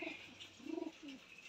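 Pigeons cooing in a loft, a few soft, low rounded coos rising and falling close by over faint background hiss, with no one talking.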